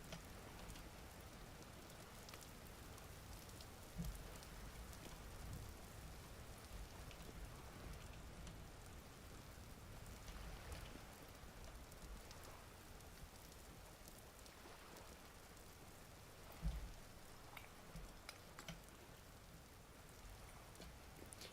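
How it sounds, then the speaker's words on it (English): Steady, soft rain falls in the survival video game Vintage Story, an even hiss with a couple of brief low thumps, no talking. "Yeah, it's raining a surprising amount now."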